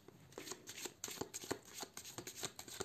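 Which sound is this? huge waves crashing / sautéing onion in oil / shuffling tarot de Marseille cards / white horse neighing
shuffling tarot de Marseille cards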